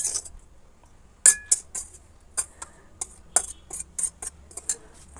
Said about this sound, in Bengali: ফুলকপিগুলো দিয়ে ভালো করে চামচের সাহায্যে একটু মাখিয়ে নেবো